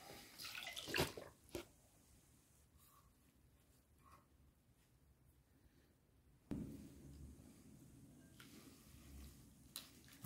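Liquid from soaked soy chunks and a black tea bag is strained off, a brief splashing pour near the start, then quiet drips and small wet sounds before another short pour of water near the end.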